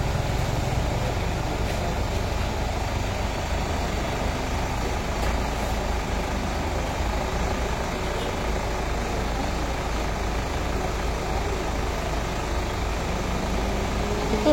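A tricycle motor runs steadily and close, a low, continuous engine drone that holds an even level throughout, with no clear speech above it.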